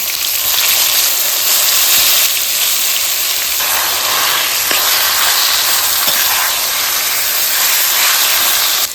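Taro leaves sizzle in hot oil with spices, a loud, steady broadband hiss that holds for the whole stretch without letting up, and no voices are heard.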